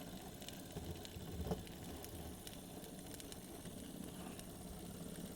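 A Wilesco D455 toy steam engine runs steadily close by, giving a continuous fast mechanical chuff and whir with a faint hiss, holding an even level for the whole stretch with no voices.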